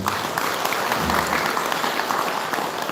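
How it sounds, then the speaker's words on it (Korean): An audience at a Buddhist dharma service applauds its volunteers, a full, continuous spread of many hands clapping at close range, holding steady throughout with a faint murmur of the crowd underneath. "다시 한번 감사의 박수 한번 부탁드리겠습니다"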